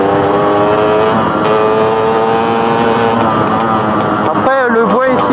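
A KTM 125 EXC motorcycle revs steadily along a dirt path, its engine note rising and falling as gears shift, loud and close, while a rider speaks over it.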